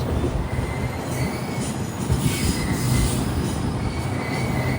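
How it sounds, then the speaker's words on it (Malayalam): A Malaysian jungle train rolls into Tumpat station after its run from JB Sentral, wheels squealing under a loud, steady rumble of rail cars, close and continuous. "JB സെൻട്രലിൽ നിന്നും 725 കിലോമീറ്റർ യാത്ര ചെയ്ത് ട്രെയിൻ ഇതാ തുംപാറ്റ് സ്റ്റേഷനിലേക്ക് എത്തുകയാണ്."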